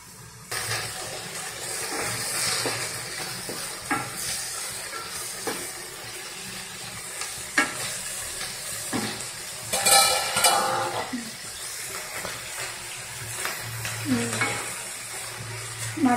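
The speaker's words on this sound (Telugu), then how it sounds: "మటన్ వేగిన తర్వాత మటన్ ఒక 5 నిమిషాలు ఫ్రై అవుతుందండి" Mutton fries in a pan with a soft, continuous sizzle while a utensil scrapes and stirs at irregular intervals, the clinks and scrapes sitting close over the steady hiss.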